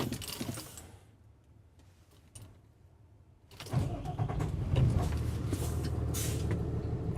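The diesel engine of a 2024 Nexus Ghost 37DS motorhome is cranked and catches after a brief quiet pause, then settles into a steady, fairly loud idle rumble close by with no talk.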